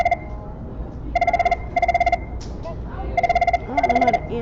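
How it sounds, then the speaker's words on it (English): A telephone rings in repeated electronic double bursts, four clear trills with gaps between them, loud and near, with a brief faint voice between rings during a live stream. "Oh, phone call."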